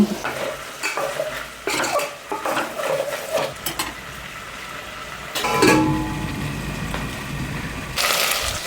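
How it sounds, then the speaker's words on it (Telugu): Whole cardamom, cloves and cinnamon fry in oil in a pot for vegetable biryani, a steady close sizzle broken by scraping stirs and clinks of a spoon against the vessel. "ఇప్పుడు మొత్తాన్ని ఆయిల్ కొద్దిసేపు వేయించుకోండి"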